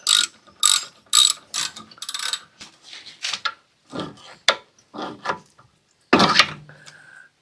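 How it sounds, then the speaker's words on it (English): A ratchet wrench undoes a 13 mm bolt on the brakes of a 1998 Mercedes-Benz C230, giving close, sharp ratcheting clicks in short irregular bursts with pauses, ending in a louder metallic scrape. "you got to hold that 15 millimeter from the back side there with the wrench while you undo the 13 millimeter"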